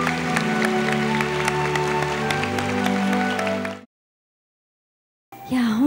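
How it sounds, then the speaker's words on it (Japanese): Applause from the audience at a kimono queen contest award ceremony, heard as quick clapping over sustained background music, then cutting off into a short silence before a faint sound returns at the end. "皆様もう一度盛大な拍手で祝福してください"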